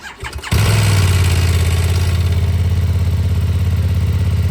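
A BMW F900R 900cc motorcycle engine cranks and catches, then settles into a loud, steady idle with a rhythmic low putter close by while warming up.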